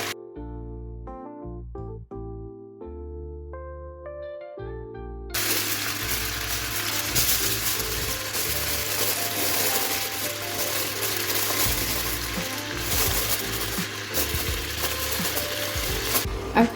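Oxtails fry in a pot while being stirred. A few clear musical tones come first, then a loud, steady sizzle with scraping takes over and lasts to the end, with no talking.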